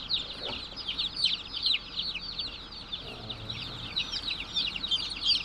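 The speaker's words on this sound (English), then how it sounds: "Baby chickens." Baby chicks delivered by mail cheep continuously in a dense, high-pitched chorus of rapid peeps. The peeping stays steady and close throughout, with no talking.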